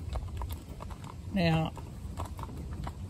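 Hooves of a cob clip-clop on a road in a steady, light rhythm, with someone talking over them.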